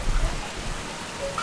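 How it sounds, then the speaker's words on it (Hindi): Steady rain falling outside a home on a school-day morning, heard as a soft, continuous hiss of drops with a low rumble underneath, even and moderately faint throughout. "बारिश हो रही है"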